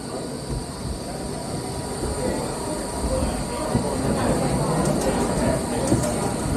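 The Pantheon roller coaster train at Busch Gardens Williamsburg, Virginia, rolls back into the station with a steady rumble, rattling wheels and occasional metallic squeals, continuous and fairly loud.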